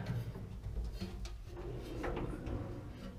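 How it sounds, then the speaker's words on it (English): A roll-out workshop drawer holding heavy metal lathe chucks slides open with a low rumbling glide and a few clunks and rattles, heard close up without speech. "the chucks are just in a nice drawer that roll out"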